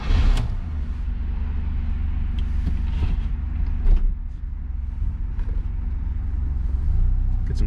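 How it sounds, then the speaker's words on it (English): Interior ride in a 1977 Chevrolet Chevette with about 800 original miles, its small engine droning steadily under continuous road rumble, with occasional creaks and rattles from the cabin and no talking. "we're gonna go for a quick little ride here in the 77 Chevette"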